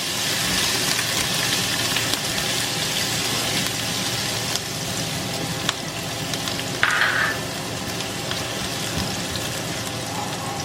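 Garlic browning in a hot pan for spicy ginataang santol, a continuous close, loud sizzle and crackle with occasional stir knocks and a brief sharper spatter, no talking.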